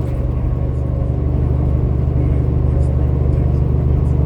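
The engine of a 2019 Peterbilt 389 truck produces a steady, deep, close rumble that holds evenly throughout, with a voice talking over it.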